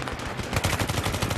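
Gunfire striking the player in a video game, a rapid rattling volley of close, loud shots in quick succession.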